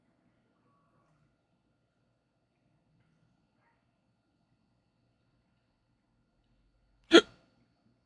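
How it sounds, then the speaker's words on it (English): A single sharp hiccup bursts out once near the end, short and fairly loud after a long stretch of near silence. "I got the hiccups now."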